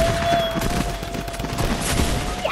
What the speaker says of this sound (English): I got my little drum gun now, boy!